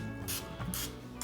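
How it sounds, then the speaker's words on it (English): Cooking oil sprayed onto chicken wings before they go on a Weber Kettle grill: two short, close hissing bursts over a steady low background hum. "I'm gonna go ahead and spray this down with just some cooking oil"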